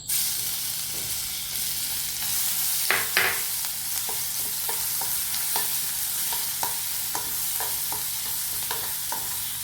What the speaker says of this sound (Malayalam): ഇഞ്ചി വെളുത്തുള്ളി ഇട്ടൊന്ന് വഴറ്റി കൊടുക്കാം